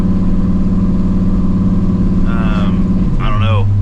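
A shop truck's engine drones steadily from inside the cab while it is driven, a loud, constant low hum with a brief rising whine near the end and a voice speaking over it.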